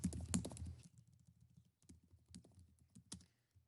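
Fingers type on a computer keyboard in quick bursts of close, sharp clicks with short pauses, fairly quiet, with no talk.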